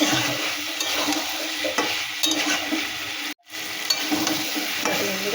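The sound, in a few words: potatoes and peas being sautéed with spices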